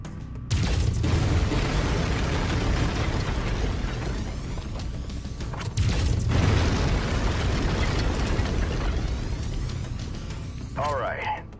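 Heavy weapon fire from a mech in the MechWarrior 5: Mercenaries video game, two loud booming bursts a few seconds apart with sustained rumbling between them and a brief sharper tail at the end.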